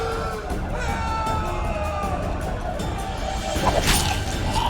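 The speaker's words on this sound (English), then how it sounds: "One person finds the courage to face the raging crowd." Raging riot crowd in a Witcher 2: Assassins of Kings cutscene, a dense continuous roar of shouting voices with scattered crashes and a brief sharp burst near the end.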